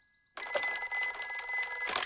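A cartoon telephone rings in a Peppa Pig episode, a bright electronic trill that starts abruptly after a short quiet moment and runs continuously and close, with no talk over it.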